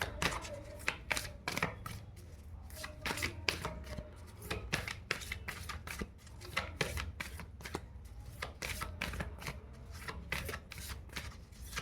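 Tarot cards being shuffled and drawn by hand, with continuous quick papery riffles and slaps close to the listener, a soft voice faintly underneath.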